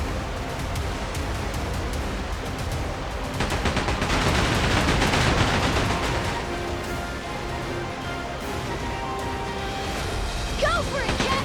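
Chaotic gunfire from a pirate battle in a Like a Dragon: Pirate Yakuza in Hawaii cutscene, rapid shots and crashing impacts layered over loud music and shouting voices, building to a dense peak midway.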